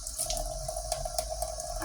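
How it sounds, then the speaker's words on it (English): Hot tap water runs steadily into a sink while a Cabbage Patch Kids doll is scrubbed with a sponge, a close, continuous splashing stream with faint spatter. "Right now we're just going to keep washing with the sponge. And the hot water."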